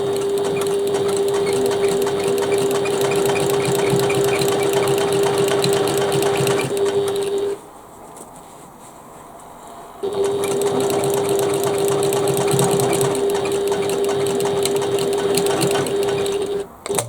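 Close, loud sewing machine stitching across the end of a bag, a steady whirring hum that pauses for a few seconds midway and then resumes before stopping.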